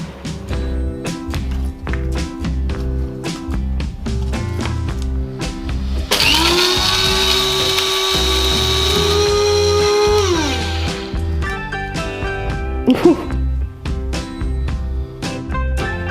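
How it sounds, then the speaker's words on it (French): A blender whirs loudly for about four seconds, finely pureeing vegetables for homemade bouillon cubes. Before and after come sharp kitchen taps and clatter. "l'idée c'est vraiment de le mixer le plus finement possible"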